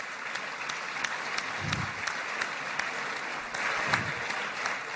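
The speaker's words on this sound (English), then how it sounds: "the applause for Trump was seemingly never-ending" Sustained applause from the Israeli Knesset chamber for President Donald Trump, a dense steady wash of clapping from a large seated audience, continuous and even throughout with slight surges.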